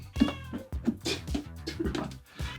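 A house cat meows repeatedly, close and fairly loud, a quick series of short, insistent meows, indoors during a gaming PC build.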